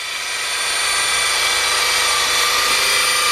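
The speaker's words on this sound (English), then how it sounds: "you might have to turn up the drill a little bit, that pressure on the drill" Power drill spinning a polishing pad on a car headlight with a Meguiar's restoration kit, a steady, close high-pitched whine that rises slightly as it runs.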